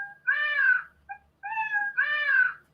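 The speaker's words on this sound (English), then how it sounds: "there is one with a meow effect" Cat meow sound effect from the Scratch sound library, two clear drawn-out meows separated by a short chirp, close and clean against silence.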